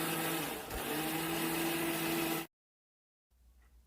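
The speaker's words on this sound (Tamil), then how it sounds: "சாம்பாருக்கு தேவையான தேங்காய் பாலை வந்து அரைச்சி எடுத்துக்கலாம்" A kitchen mixer grinder whirring steadily as it grinds grated coconut for coconut milk, a loud continuous motor drone that stops abruptly, followed by brief silence and faint room noise.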